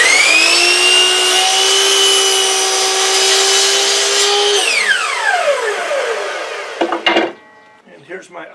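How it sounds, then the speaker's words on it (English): A miter saw cuts wood pieces. The loud, close motor whines at a steady pitch, then spins down with a falling tone, followed by a few knocks and rattles. "And I'm going to cut these on the miter saw."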